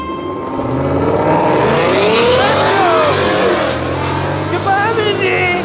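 Modified race cars with swapped intake and exhaust launch in a drag race, building from a loud rising engine roar into high revs that sweep upward and fade slightly as they pull away. A voice talks faintly under the engines.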